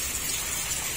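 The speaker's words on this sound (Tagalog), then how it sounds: "Thank you Lord for the rain." Rain falls on a corrugated roof as a steady, dense hiss of drops, continuous and even throughout the brief moment, with no voices.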